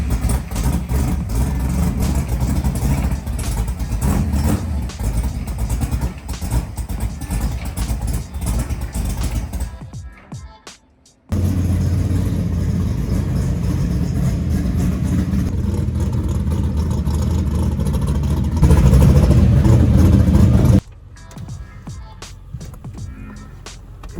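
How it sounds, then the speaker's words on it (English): A car engine with a freshly installed TKX transmission cranks over and runs, idling and revving hard, cutting out briefly midway before roaring back louder, with a voice talking over it. "I'm starting it. Make sure it still starts after a transmission change"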